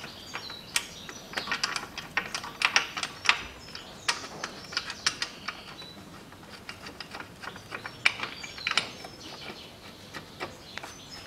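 Ratchet wrench tightening the AC compressor bracket on a 2006 Lexus GS300 with the 3GR-FSE engine, a series of quick, close, irregular clicking bursts with short pauses, heard alone.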